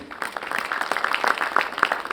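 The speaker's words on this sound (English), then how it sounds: "We request you to kindly applaud their presence." Audience applause greets a moderator walking on stage at a solar-energy leadership session, a steady patter of many hands clapping in a large hall, moderately loud and continuous, with no talk.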